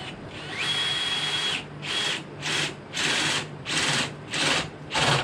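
A power drill with a spade bit boring into wood in repeated bursts, a long run followed by several shorter pulses with brief pauses between.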